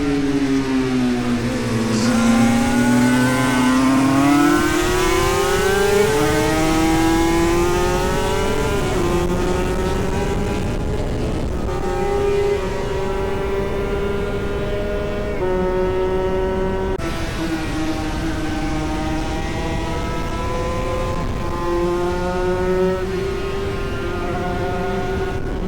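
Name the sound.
racing motorcycle ridden on track at Snetterton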